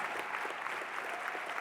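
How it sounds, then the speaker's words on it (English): A crowd applauding steadily, dense clapping holding at an even level throughout. "Give a big round of applause."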